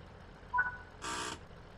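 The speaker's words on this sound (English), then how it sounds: "And listen for the guard buzzer." A guard buzzer sounds on a ScotRail Class 158 train in Train Sim World 4, a short electronic beep followed by a flat, harsh buzz of about a third of a second over a quiet cab hum.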